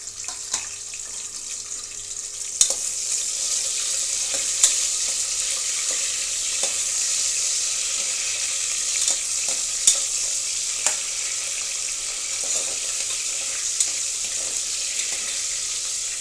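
Onions and green chillies fry in a pan for vegetable biryani, giving a steady, even, high sizzle with scattered sharp clicks of stirring over about sixteen seconds.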